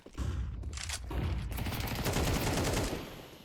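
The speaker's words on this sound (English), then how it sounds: "A couple deagle shots here" Rapid gunfire from Desert Eagle pistols and other weapons in a Counter-Strike match on the Vertigo map, a dense continuous volley of loud cracks lasting several seconds before tapering off.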